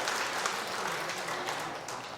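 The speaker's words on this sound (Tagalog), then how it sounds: "Isa po hong palakpak para kay Leah." Congregation in a church service applauds a singer, a soft, steady patter of many hands clapping, fairly faint and distant, fading slightly toward the end.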